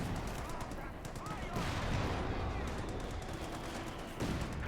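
Sherman tanks firing armor-piercing rounds at a Panther in Company of Heroes 2, a battle mix of rapid gunfire bursts and booming shots over continuous combat noise.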